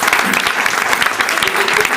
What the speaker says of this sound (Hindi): सभी लोग ताली बजाएं, अभिनंदन करें।